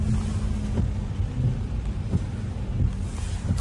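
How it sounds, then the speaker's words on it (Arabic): Steady rain pours down, heavy and close with a constant hiss, while low rumbles of thunder roll underneath in a noisy outdoor wash, no voices. "شوف المطر، شوف"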